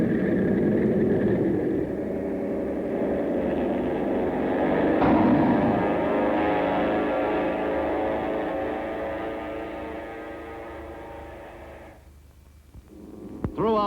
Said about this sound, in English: In that kind of weather, a catapult was used to push the planes into the air.